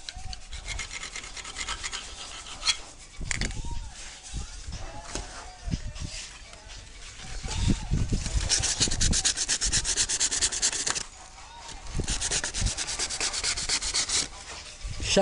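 A repaired crack in a masonry wall is sanded by hand, a loud continuous abrasive rasping with rhythmic strokes that swell and ease, close and steady for the whole stretch.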